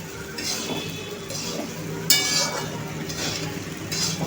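Sabudana khichdi mixture of tapioca pearls being sautéed in a pan, soft sizzling with repeated stirring and occasional metallic clinks of the spoon against the pan, close by and without talk.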